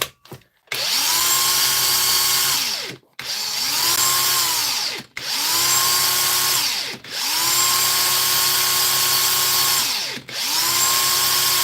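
An older impact wrench rated at 1600 newton meters of torque runs in five long, loud whirring bursts with brief gaps between them, close up and steady, with no voices.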